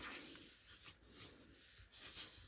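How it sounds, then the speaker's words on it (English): Bone folder burnished along scored paper lines, a soft continuous rubbing with faint rhythmic strokes, close and quiet with no talking. "take your bone folder and burnish those lines really well"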